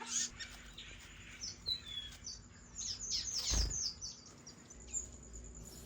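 A young bird named Olive begs a sibling for food with a string of thin, high chirps and squeaky calls in quick bursts, fairly faint against a quiet background.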